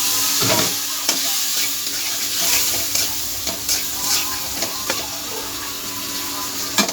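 Tomatoes tipped into a hot pan of oil and turmeric, sizzling loudly and close with repeated stirring scrapes and clinks over the spitting fry.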